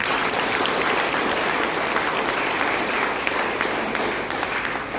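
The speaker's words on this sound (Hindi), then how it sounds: "इनके लिए एक जोरदार ताली चाहिए।" Steady, dense applause from a church congregation at a Catholic community foundation day celebration, honoring the animation team, loud and continuous throughout.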